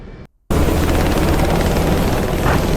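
Helicopter noise in a DCS combat flight simulator, a steady loud broadband rotor and engine roar that starts abruptly after a brief silence and holds constant.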